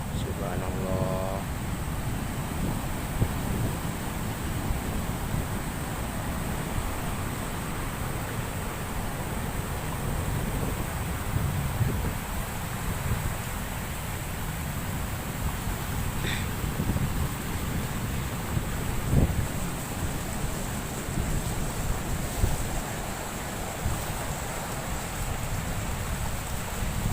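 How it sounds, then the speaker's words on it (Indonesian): High tide surf crashes onto Bajulmati beach on Java's south coast, a steady, close, heavy roar of breaking waves mixed with buffeting wind noise on the microphone throughout. "Ini gelombang pasang di pantai Bajulmati."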